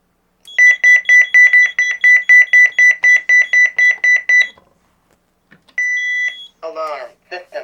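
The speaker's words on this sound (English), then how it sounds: "I'm going to send an alarm from the keypad on the CareTaker Plus" A 1992 CareTaker Plus home automation alarm, triggered from its keypad, sounds a loud, steady run of rapid, evenly spaced beeps for about four seconds, followed after a pause by one longer tone and then a synthesized voice announcement.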